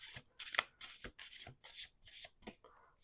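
Playing cards are riffled and shuffled repeatedly up close, a series of rapid papery bursts in an even rhythm.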